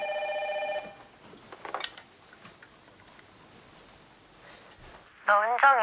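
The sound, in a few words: home telephone bell ringing loudly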